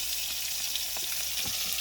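Continuous loud sizzling of hilsa fish heads frying in hot oil, with a few soft pops and crackles throughout.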